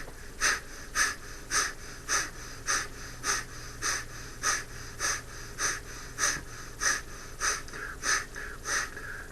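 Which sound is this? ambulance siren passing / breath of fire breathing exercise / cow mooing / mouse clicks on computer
breath of fire breathing exercise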